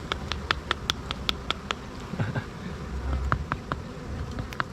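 Dwarf honey bees at a wild hive buzz close by, individual bees whizzing past in quick bursts over a low background hum, with a few soft rustles in between.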